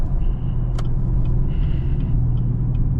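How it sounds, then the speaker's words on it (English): Camaro 2SS with a turbo rumbling through congested traffic, a steady low engine drone broken by a brief sharp hiss and a few faint whistling tones. "That turbo sounded crazy though."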